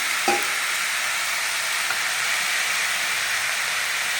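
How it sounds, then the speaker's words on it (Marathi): Cut tomatoes tipped into a hot kadhai for homemade ketchup: a brief thump, then a constant broad hissing sizzle that holds steady and close throughout. "आता आपण इथे एक पॅन गरम करायला ठेवलेलं आहे कढई त्याच्यात सगळे टोमॅटो हे टाकून घेऊया"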